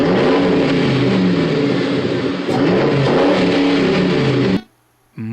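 A Ford Crown Victoria with a muffler-delete exhaust revs hard and raw, with a brief dip mid-way before climbing again, then the sound cuts off abruptly into near silence.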